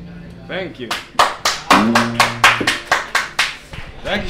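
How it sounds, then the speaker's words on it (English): Hall audience applauding, sharp distinct claps landing in a fairly even rhythm, with a voice talking over them. "And they're applauding at the hall."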